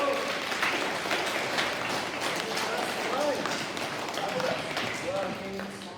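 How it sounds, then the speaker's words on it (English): A school assembly crowd applauds with dense, continuous clapping that fades slightly toward the end, with voices chattering underneath. "Let's give her a big round of applause."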